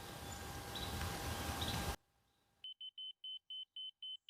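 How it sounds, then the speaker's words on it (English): A loud burst of rushing noise cuts off, then a short pause before a rapid series of high, evenly spaced electronic beeps from a laser detector nearing the laser line while marking a 6x6 post for cutting. "as it gets close to the laser, it'll start beeping"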